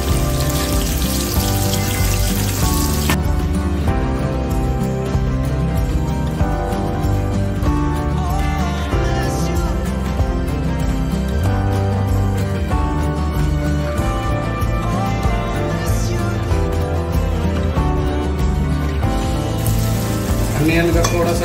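Onion and green chili sizzle and crackle loudly in hot oil while noodles are being cooked at home; a dense, steady frying hiss fills the whole stretch, with faint stirring beneath.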